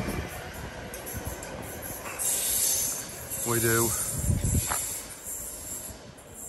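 A train moves at a station on the line toward Four Oaks, with rumbling, a high wheel squeal and an air hiss rising and fading, and a voice speaks briefly.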